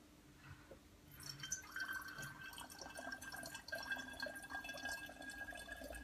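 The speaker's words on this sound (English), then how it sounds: "I'm actually pouring some water." Water poured from a tap or jug into a hand wash bottle, a steady trickling fill with a rising ringing tone as the bottle fills, close and fairly quiet, with no talk.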